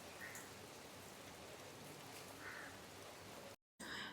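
Steady rain falls outside a newly opened restaurant in Jaffna, a soft, even hiss heard at a distance with no talking.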